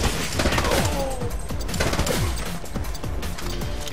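Dense automatic gunfire from the video game The Club, with rapid overlapping bursts and sharp impacts that keep up loud and steady throughout, with no pause and no talking.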